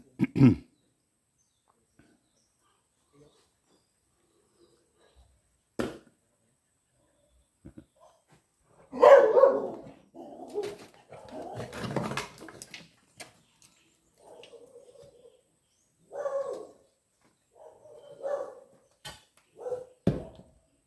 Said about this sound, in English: Dogs are on attack again.